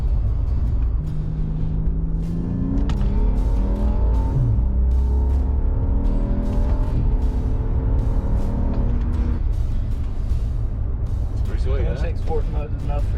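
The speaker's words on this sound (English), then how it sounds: "I'm changing gears right here. So it just like a Ferrari." BMW 535i engine revving and shifting gears inside the car, rising and falling drone through several gear changes over a steady low rumble, with talk over it.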